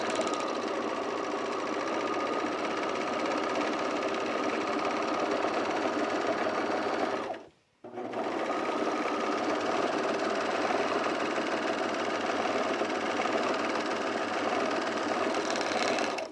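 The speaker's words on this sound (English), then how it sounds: "I'm going to overlock this edge here" An overlock sewing machine whirs at a steady, fast, even pace as it runs along a fabric edge, stops briefly for a moment about halfway, then starts again and carries on, close and without talk.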